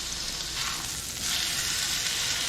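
A steak sears in a hot pan for chimichurri street tacos, a loud, steady sizzle that holds for the whole stretch and swells a little partway through, with no voices.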